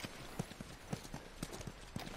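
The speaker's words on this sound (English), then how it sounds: "You guys have horses." Horse hooves clip-clopping in The Last of Us video game, a soft, fairly faint rhythmic clatter of steady hoofbeats at a walking pace, a few per second throughout.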